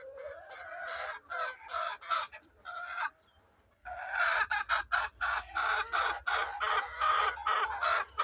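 Golden Misri hens cluck nearby in a steady, busy chatter while sitting on eggs, with a short lull partway through. A low hum sits underneath, and no one speaks.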